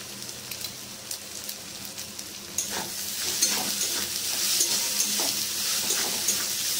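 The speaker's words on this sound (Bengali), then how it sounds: "পোস্তটা ভাজা ভাজা হয়ে গেছে" Poppy seeds frying in a pan give a close, hissing sizzle that grows louder halfway through, with soft scraping stirs scattered throughout and no voices.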